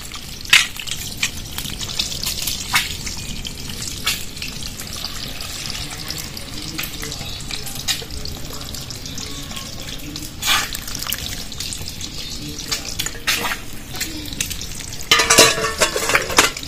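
Eggs frying in a pan in a village kitchen for egg biryani make a continuous sizzle. Scattered sharp stirring scrapes and some watery splashing sounds run through it, with no speech.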